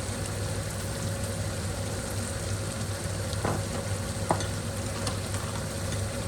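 Whole spices (coriander seed, cumin, cloves, cinnamon) fry in hot oil for mutton karahi, making a dense, loud, even crackling sizzle with a few sharp pops.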